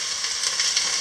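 Cardamom, bay leaf and butter sizzle and crackle in smoking-hot oil in a pan, a steady close frying hiss throughout with no talking.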